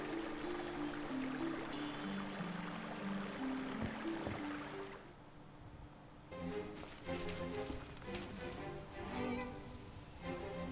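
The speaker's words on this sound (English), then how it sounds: "a swift, cold, pebbly, babbling brook" A swift, cold, pebbly babbling brook in The Night of the Rabbit, a faint steady watery rush layered with chirping insects and soft tonal game music.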